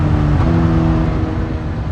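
A second-generation Suzuki GSX-S1000 motorcycle with the K5 inline-four engine pulls hard at high speed near 200 km/h, a loud sustained engine roar with steady wind noise and no speech.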